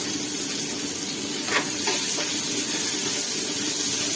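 Onions sizzling in a pan with a little salt, a dense, continuous close frying hiss with brief stirring scrapes around the middle, no talking.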